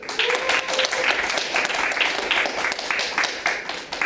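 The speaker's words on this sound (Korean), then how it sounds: "그러니까 우리 뭐 남식이한테 박수 한번 쳐줘라." A group of children in a sports class claps to cheer a classmate, a close, brisk burst of uneven clapping lasting a few seconds.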